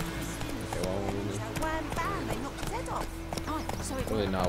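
A horse's hooves clip-clop at a steady walking rhythm through a town in Witcher 3, with game ambience and someone talking over it throughout.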